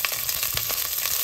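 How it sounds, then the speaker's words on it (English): Green chillies sizzle and splutter in hot, smoking mustard oil with a loud, continuous crackling fry and a few sharper pops, close up and with no talking. "Now add the green chilies and saute. You're going to be careful because it's going to splutter."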